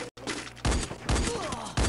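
Rapid bursts of gunfire from the Free Fire battle royale video game, loud and dense, coming in several back-to-back volleys separated by brief gaps.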